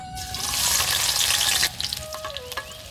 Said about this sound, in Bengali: প্রথমে রসুন কাটাটা দিয়ে দেবো